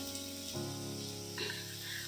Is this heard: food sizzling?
yes